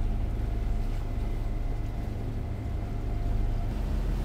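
A boat's single diesel engine runs steadily at 2100 RPM under way at about 5.3 knots in a 13-knot crosswind, giving a continuous low droning rumble with wind and water noise and no break.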